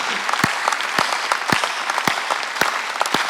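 A church congregation claps loudly and steadily through a Sunday worship service, a thick continuous wash of many hands sounding together, with a few sharper individual claps popping out above it.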